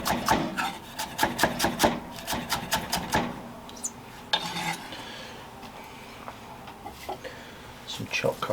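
A knife slices washed spring onions at an angle on a board for Thai pork burger slaw, giving a run of close, crisp, rhythmic cuts that slow and thin out toward the end.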